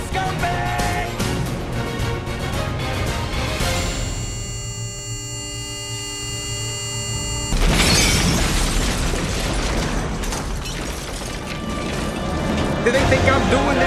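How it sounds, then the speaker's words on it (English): A bomb blast on a runaway bus in the 1994 action film Speed comes as loud booming explosion and rumble under swelling trailer music, with dramatic voices speaking around it. "An explosion."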